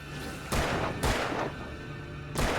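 Heavy gunshots in the video game Alan Wake boom out three or four times at irregular intervals, each a loud blast with a rumbling tail, over a constant bed of game ambience.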